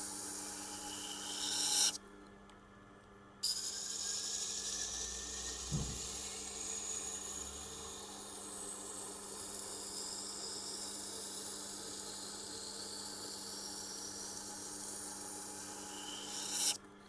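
A knife's tip is worked on a sharpening stone in a steady, close rasping scrape that runs almost continuously, with one brief pause and a soft knock partway through.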